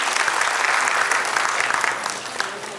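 An audience at a ceremony applauds with a dense, sustained round of clapping from many hands, loud and even at first before tapering off slightly toward the end.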